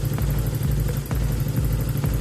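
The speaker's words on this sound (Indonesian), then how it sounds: "Ya teman-teman, ini pada saat mesin nyala" A Honda GL 100 motorcycle engine idling steadily with a regular low thumping pulse and a constant high whine, recorded up close and loud with no talk.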